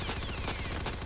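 Rapid SKS rifle gunshots in the Roblox shooter Aimblox, a fast run of sharp, loud reports filling the short burst with no voices.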